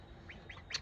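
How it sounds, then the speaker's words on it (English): A few faint, soft peeping calls from ducklings, brief and close together, over low background noise. "we got some baby ducks"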